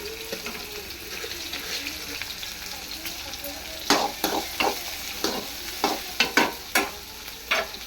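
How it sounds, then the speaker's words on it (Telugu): Chopped onions and tomatoes soften in hot oil in a pan, a low continuous sizzle under a series of sharp scraping clinks as a spoon stirs and knocks against the pan, close and fairly quiet. "ఇది అంతా నూనెలోనే మగ్గిస్తాను."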